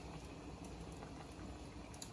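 Water with spaghetti bubbles in a pot, a soft, even simmering crackle that stays low and steady, with no talking over it.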